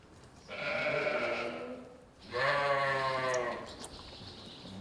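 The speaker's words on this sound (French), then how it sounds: "C'est ici que j'ai installé mon troupeau de moutons." A flock of sheep bleats in a former cowshed now used as a sheepfold. Two long, wavering bleats sound one after the other, close and fairly loud, with a quieter stretch at the end.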